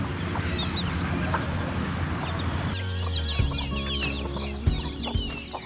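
Native Thai village hens cluck and chatter nearby in a farmyard, soft repeated calls over a steady low hum, with a few louder squawks toward the end.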